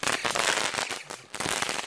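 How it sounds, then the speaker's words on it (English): UK fireworks exploding on the ground at close range, a rapid burst of loud cracking and popping firecracker bangs with a brief lull before more crackling resumes. "Only UK fireworks are safe enough to explode like within 3 meters radius on the floor."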